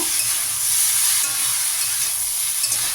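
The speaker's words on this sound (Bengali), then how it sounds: "এখন আমি ঝিঙেগুলো দিয়ে দিচ্ছি গুঁড়োগুলো দিয়ে একটু কষে নেব" Ridge gourd being sautéed with spice powders, giving a steady, close sizzle with faint stirring scrapes throughout, no voices.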